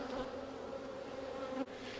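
Honey bees buzz around an open farm hive, a dense steady drone with a brief dropout near the end and no talk.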